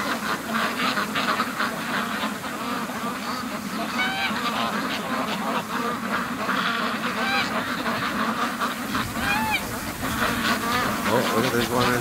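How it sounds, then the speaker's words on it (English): Geese honking repeatedly among ducks at the edge of an icy lake on a free-range duck farm, loud and close, with scattered overlapping calls and a voice talking over them. "Oh, this is a geese."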